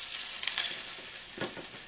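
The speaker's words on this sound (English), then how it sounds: "we're actually frying those bits in the pan" Meat bits sizzle and crackle steadily in a hot pan, browning for roast turkey gravy, with a few sharper pops and stirring scrapes, close up and fairly quiet.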